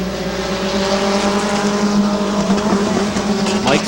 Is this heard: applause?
no